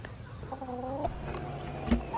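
Chickens cluck and croak in short, uneven calls from a backyard garden flock, with several birds sounding close by and a sharper cackle near the end.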